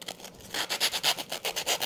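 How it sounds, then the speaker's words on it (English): Sandpaper rubs briskly over the edges of a wooden gingerbread girl cutout in quick, even back-and-forth strokes, a close rhythmic rasp with no voices. "You're just going to sand them down."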